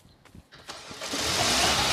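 Car engine starting in the video game A Dusty Trip: a few sputtering cranks, then the motor catches and swells into a steady, loud running roar that fills the rest of the clip.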